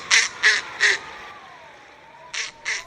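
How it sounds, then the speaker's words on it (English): Snowy owl (Bubo scandiacus) calling: five harsh, barking bursts, three in quick succession, then a pause and two more, loud and close against a quiet background. "Bubo scandiacus, the snowy owl, today's Talkin' Birds featured feathered friend."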